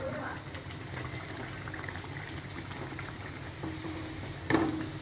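A Mughlai paratha fries in plenty of hot oil, giving a steady soft sizzle and bubbling with a brief louder spatter near the end; a voice speaks quietly over it.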